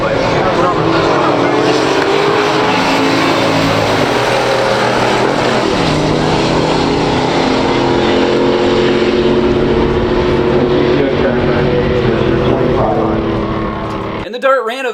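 A 1969 Dodge Dart GTS 340 and a 1965 GTO run a pure stock drag race, their V8 engines roaring loudly and continuously with rising and shifting tones before cutting off near the end, under an announcer's voice.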